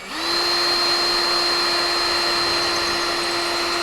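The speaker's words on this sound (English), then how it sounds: "First thing we want to do is drill our first pilot hole." A power drill drills a pilot hole in wood, whirring steadily at a constant high pitch for several seconds, close and loud, with no talking.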